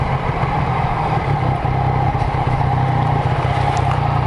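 A Yamaha MT-09 motorcycle engine runs steadily at close range while riding on Seonyudo island, Gunsan, a loud continuous drone with a low rumbling pulse and no talking.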